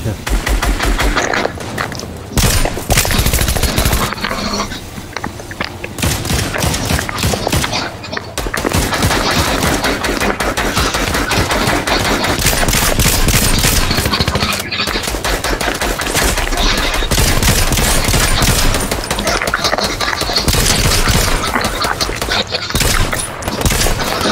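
Video game gunfire keeps up in loud, dense bursts of rapid automatic shots for most of the stretch, broken by brief pauses, with players' voices talking over it.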